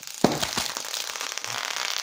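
A small firework goes off outdoors with a sudden sharp pop, followed by a sustained crackling fizz that lingers to the end.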